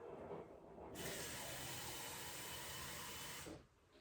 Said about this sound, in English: I'm gonna add water to the pot.